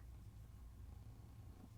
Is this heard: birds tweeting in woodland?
no